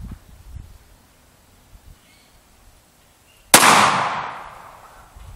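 A single FN Five-seveN pistol shot firing a 5.7x28mm black tip armor-piercing round, one sharp loud crack followed by a long decaying outdoor echo, with quiet background before it.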